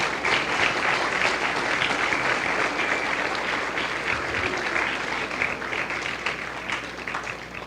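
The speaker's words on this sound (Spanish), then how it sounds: "Dele una ofrenda de aplausos a nuestro Dios." Church congregation applauding during a Spanish-language service, a dense sustained wash of many hands clapping close by that slowly tapers off near the end.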